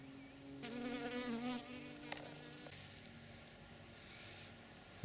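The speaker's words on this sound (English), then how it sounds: "There's a honeybee." A honeybee buzzing among flowers in an autumn garden in late October, a quiet close drone that rises and fades over a few seconds against soft outdoor background, with no talk.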